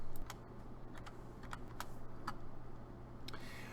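Graphing calculator keypad being pressed as data is entered, a series of small crisp plastic clicks at irregular intervals, close but quiet, against a low steady hum with no talk.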